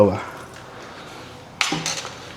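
A lid set onto a cooking pot of squid adobo, a sharp metallic clatter near the end after a quiet stretch of low kitchen background, close and fairly loud.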